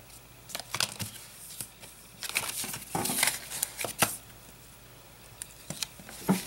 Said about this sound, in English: You can just tear it right off.